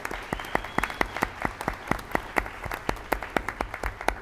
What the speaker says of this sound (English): So I would like a big round of applause, please, for our Board of Education and our district office staff